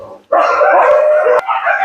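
A Siberian husky puppy lets out a single sustained howl, close and loud, rising abruptly and holding steady for over a second.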